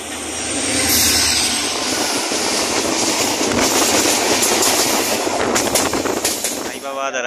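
A superfast express train, the Mau–Anand Vihar service hauled by a WAP-5 electric locomotive, runs at speed. A loud, continuous rushing roar of wheels and wind holds steady throughout, with a voice in the background.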